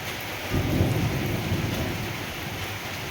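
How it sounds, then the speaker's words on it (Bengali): A thunderstorm with steady rain, its low thunder rumble swelling early and fading slowly beneath a continuous close hiss of falling rain. "কি ভালো লাগে মেঘ আর বৃষ্টি"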